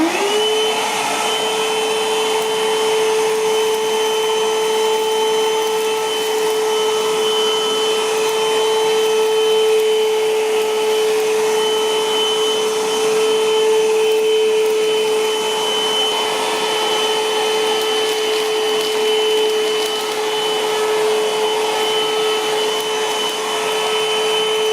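A Comfyer cordless vacuum cleaner runs continuously while picking up fine cereal, a steady close motor whine with a high tonal hum and airy rush, unbroken for the whole stretch with no talking.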